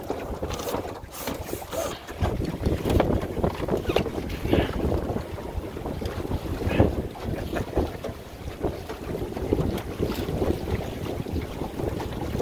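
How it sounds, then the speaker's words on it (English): A Drascombe Lugger sailboat short tacks up a narrow channel among islands, with strong wind buffeting the microphone and water sloshing and splashing along the hull in an uneven, continuous wash. "Short tacking up a little channel."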